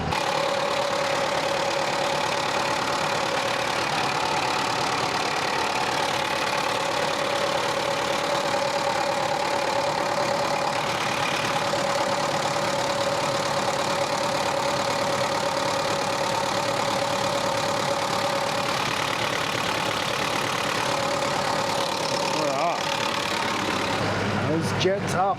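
A farm tractor engine powering a sprayer, run up to 540 PTO speed: a steady, loud mechanical drone with a constant hum that holds for the whole stretch, briefly shifting near the end.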